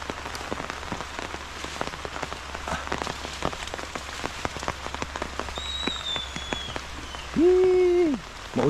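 Rain falls steadily in a storm, with a continuous hiss and scattered close drips and patters striking a surface, and near the end a high, drawn-out sound briefly cuts in over it.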